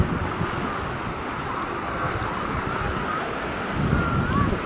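Sea waves roll onto Muzhappilangad beach in a continuous, close, loud roar of surf mixed with strong wind rumble, with no clear voices.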